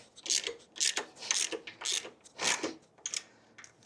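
A ratchet turns a T45 Torx bit in a bolt on a Harley Lowrider S rear brake, with a series of quick rhythmic clicking bursts up close and no talking.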